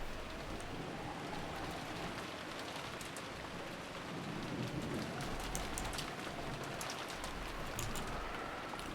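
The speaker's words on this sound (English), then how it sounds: "As we opened the front door, the downpour was quite terrific" Heavy rain pours down in the Umineko visual novel, a dense, steady hiss of falling water with scattered drop patter, loud and unbroken throughout with no voices.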